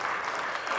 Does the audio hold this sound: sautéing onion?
no